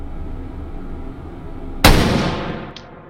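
A single sharp rifle shot from a WWI American bolt-action rifle in a VR game cracks out loud and close after a quiet stretch, trailing a decaying tail with a faint metallic ping near its end.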